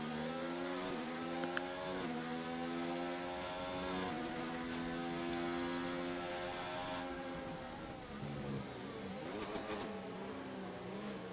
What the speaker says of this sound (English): Big old downshift there from Dad.